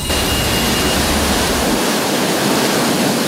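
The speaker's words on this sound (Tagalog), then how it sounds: "Parang fountain ang waterline na ito ng Maynilad sa A. Bonifacio Avenue, Quezon City sa lakas ng bulwak ng tubig" A Maynilad water main on A. Bonifacio Avenue in Quezon City, broken by a backhoe, gushes like a fountain in a loud, steady, roaring rush of water that fills the whole clip without a break.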